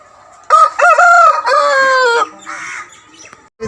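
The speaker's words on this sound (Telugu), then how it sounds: "చాలా మంచి కోడి సార్." A high-speed breed fighting rooster, over a year old, 24 inches tall and about 4 kilograms, crows loudly and close by in one long drawn-out call, followed by a brief quieter cluck.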